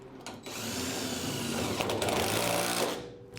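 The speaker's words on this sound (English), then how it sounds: "we're gonna just bolt these now with the two shims on" An air tool whirs loudly and steadily for a few seconds while bolting the body mounts with shims onto a 1971 Triumph TR6, close up with no talk.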